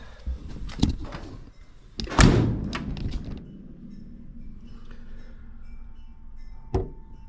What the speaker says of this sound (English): And see where the door closes.